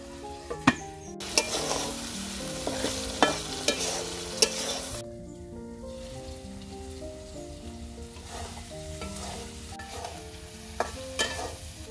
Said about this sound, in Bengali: চিংড়ি মাছটা ভালোভাবে কষে নিচ্ছি, এখন এই যে লতি দিয়ে দিব।